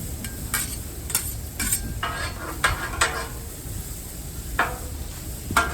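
Fajita vegetables tossed with seasoning on a hot Blackstone griddle, a steady sizzle broken by repeated scraping stirs of a spatula, close and fairly loud with no talking.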